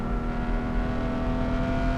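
A Porsche 981 Boxster GTS accelerates in second gear, a smooth, steady engine drone rising slightly in pitch, heard close from inside the car at moderate level.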